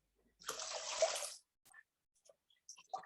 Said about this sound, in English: I'm washing my feet as well.